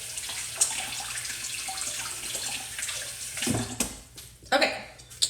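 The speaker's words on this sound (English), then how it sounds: "I'm gonna rinse my hands and I'll be right back" Tap water runs steadily as hands are rinsed under a faucet after making homemade hand soap, a continuous rushing wash with louder splashing bursts near the end.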